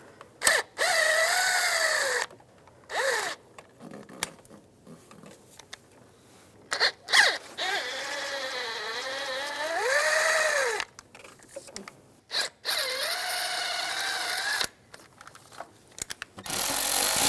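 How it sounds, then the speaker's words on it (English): Power tool driving out the bottom valve cover bolts on a 1996-2002 Toyota 4Runner, a series of loud whirring bursts rising and falling in pitch, separated by short pauses, close to the listener with no talk. "Now we'll take the 4 bolts out on the bottom."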